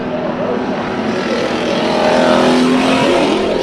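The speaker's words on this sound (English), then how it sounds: "Listen to the motor." A race car at Bakersfield Speedway during heat races, its engine droning and revving loudly and steadily. The motor holds near-constant pitch with slight rising swells, heard against an open-air track ambience and possible crowd or announcer sound.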